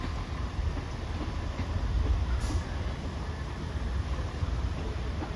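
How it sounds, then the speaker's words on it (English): An East Midlands Railway diesel passenger train, unit 17511, rolls past with a steady low rumble and faint rail clatter, loud and close, swelling slightly in the middle before holding level. "that's 17511 on the 1010 East Midlands Railway service to Newark Castle"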